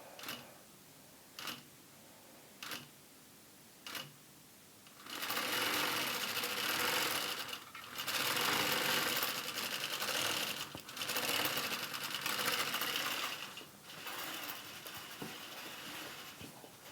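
A quilting machine stitching rows across a baby quilt: a few short mechanical clicks, then long loud whirring stretches of rapid stitching broken by brief pauses.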